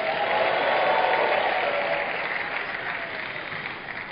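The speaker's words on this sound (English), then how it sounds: "Give the Lord a bigger clap and a shout of praise." A church congregation applauds loudly and steadily, a dense wash of many hands clapping at once that holds strong before easing slightly toward the end, with no speech over it.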